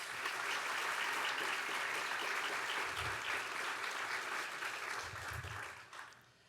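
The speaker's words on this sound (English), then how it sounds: "Give her a big round of applause." Audience applause for a vice president of student services at a transfer achievement celebration: sustained, fairly distant clapping from a crowd that swells briefly and then fades out near the end.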